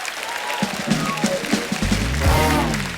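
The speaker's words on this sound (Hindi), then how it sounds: "जोरदार तालियां एक बार ट्रेलर के लिए।" A crowd claps and cheers loudly while a voice speaks over the noise, a studio audience at a comedy show applauding a film trailer.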